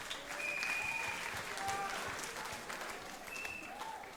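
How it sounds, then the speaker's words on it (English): At a summer camp color war finale, a crowd applauds steadily for Team Gevura, the clapping sounding distant and fairly faint with a few whistles mixed in. "A big round of applause."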